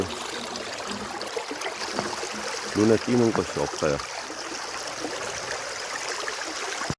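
A riverside near Buron in Wonju carries a steady broadband rush of flowing river water throughout, with a person talking briefly over it partway through.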